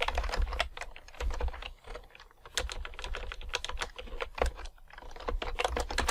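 A computer keyboard clatters in quick close bursts of keystrokes and clicks while a shortcut is entered in image-editing software, with brief pauses between flurries.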